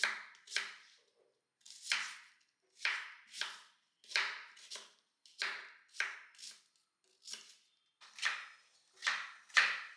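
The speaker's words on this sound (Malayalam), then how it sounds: "ഇനി മറ്റു ചേരുവകൾ കടലക്കറിക്കുള്ള ചേരുവകളൊക്കെ ഒന്ന് നുറുക്കി ഒക്കെ റെഡിയാക്കട്ടെ" Knife chopping ingredients for a roasted-coconut chickpea curry on a cutting board, a steady run of close, crisp thuds in paired bursts with short pauses between them.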